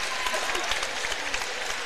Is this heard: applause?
yes